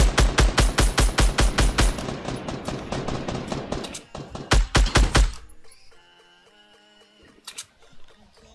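Rapid bursts of gunfire from the Fortnite battle royale game, loud repeated shots in quick rhythmic volleys for several seconds, then tapering off into quieter game interface sounds and a final isolated shot.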